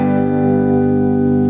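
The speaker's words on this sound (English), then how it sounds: "This top pickup sounds like this." A Gibson SG Standard electric guitar played on its top pickup, volumes around 6 and tones at 3, rings out as one loud sustained chord that holds steady and then fades slightly.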